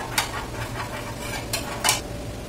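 Pancake batter sizzles quietly in a thin layer of oil in a pan, with a few sharp scraping or stirring bursts over a soft steady hiss.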